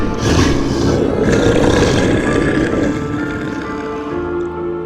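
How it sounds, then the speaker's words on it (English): Deep, loud, sustained roar of a creature at a creek's edge in the woods, one long growling bellow that gradually fades, with no talk. "It roars in frustration."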